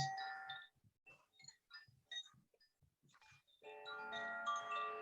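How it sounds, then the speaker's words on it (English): A meditation alarm clock plays soft chimes, a faint series of separate bell-like notes that swells into a sustained, layered ringing tone toward the end. "you will hear my chimes"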